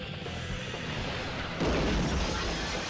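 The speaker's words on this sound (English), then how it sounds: "Damn fire effects in that building" Fire roaring with explosive booms inside a burning building in the PS1 Spider-Man video game, a dense continuous rumble that swells into a louder burst partway through.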